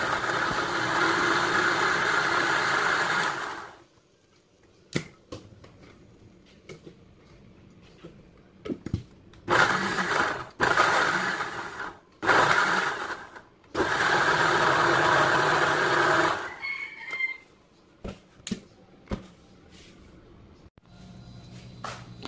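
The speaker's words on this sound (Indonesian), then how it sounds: "ini sudah tipis-tipis, kita proses blender ya teman-teman" Kitchen blender grinding thin cassava slices in several bursts: a loud motor whir for a few seconds, then pauses with clattering and shorter whirs, followed by another long grinding run and scattered knocks.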